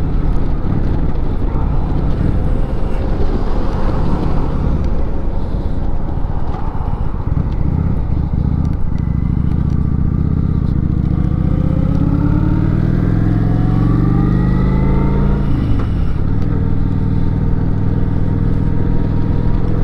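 A used, barely broken-in Harley-Davidson motorcycle in perfect condition rides along, its engine a deep throbbing rumble under heavy wind buffeting, with the pitch climbing and falling as it accelerates and shifts.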